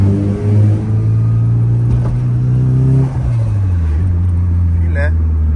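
A Nissan S14 engine runs steadily close by, its low drone rising briefly with light revving and a dip near the middle, while someone talks over it.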